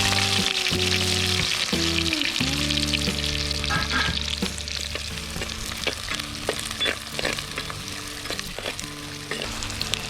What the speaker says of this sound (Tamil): கடுகு பொஞ்சது வெங்காயம் போட்டுக்கணும்